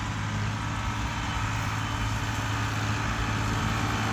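A Farmtrac farm tractor's diesel engine runs steadily at close range with a deep, constant rumble and no breaks, next to a 16-foot trolley loaded with wheat.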